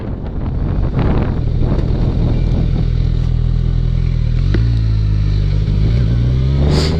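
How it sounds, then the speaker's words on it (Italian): Kawasaki Z1000SX motorcycle from 2017 riding on the road in its low-power throttle map, the engine droning steadily and rising in pitch as it accelerates, close and loud under heavy wind rush. "Utilizziamo la mappatura a bassa potenza, il motore diventa ancora più dolce sotto"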